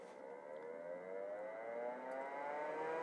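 A Zephyros electric nail file drill runs on low speed with a steady, faint whirring hum whose pitch climbs slightly, continuous and alone for the whole stretch.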